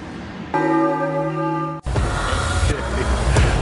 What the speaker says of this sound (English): Then that gong is the end of the second episode.